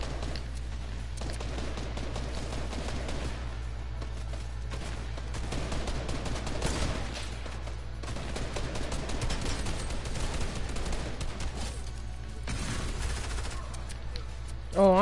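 Gunfire during a trios arena match in a shooter game: repeated bursts of automatic fire and scattered shots of varying distance over a steady low hum, going on throughout.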